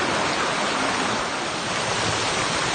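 A small creek along the Appalachian Trail, water rushing loudly and steadily in a close, dense hiss with no pauses.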